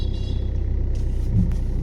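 A car in reverse creeps slowly along a narrow street, its engine a steady low rumble with a faint bump partway through, heard from inside the cabin with no talking.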